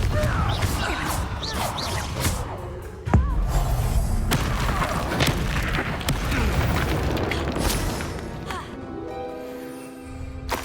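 Explosive Confringo spell blasts in Hogwarts Legacy combat during a Deathly Hallows trial, with a sharp booming impact near the middle amid dense, continuous magical effects and crashes, ending in a shimmering tonal decay.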